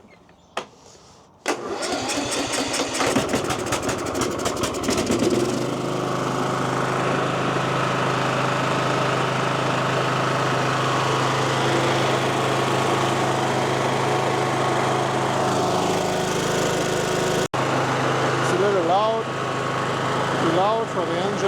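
A Kohler engine on a Husqvarna lawn mower is choked and cranked, catches and roars into a loud, steady, fast idle running close by for about twelve seconds, then cuts out; a voice speaks briefly near the end.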